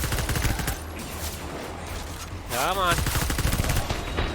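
A burst of gunfire in Death Stranding rattles quickly under a voice, with a short rapid volley arriving near the end.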